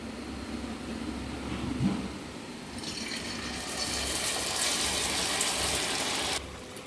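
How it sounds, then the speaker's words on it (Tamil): Batter-dipped thoppam dropped into hot oil for deep-frying, with a quiet background that swells into a loud, steady, crackling sizzle before cutting off abruptly near the end. "அதுக்கு நான் வந்து எண்ணெய் சுட வச்சுருக்கேன்"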